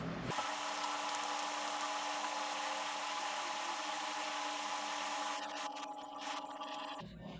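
A powered driver with a thin bit whirs steadily and close while backing out a Glock sight screw, a continuous buzzing mechanical drone that ends abruptly near the close.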